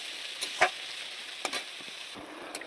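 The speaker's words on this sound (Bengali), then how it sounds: "কড়াইয়ে দিয়ে মাছটাকে একটু তোমরা এভাবে ভেজে নেবে" Small freshwater chuno fish, rubbed with salt and turmeric, fry lightly in a kadai, giving a soft steady sizzle broken by a few sharp spatula scrapes and clicks, close and without speech.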